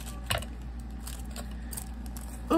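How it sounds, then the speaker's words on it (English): Small keys on a little key ring jingle in short metallic bursts, a brief rattle near the start and another at the very end, close and fairly soft against a quiet room. "Oh, here's some more keys."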